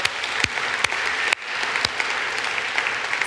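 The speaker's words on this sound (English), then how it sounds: "can we clap for the organizers really quick for that?" Conference attendees at a CSS tech event clap for the organizers, a steady burst of applause punctuated by a few sharp louder claps nearby.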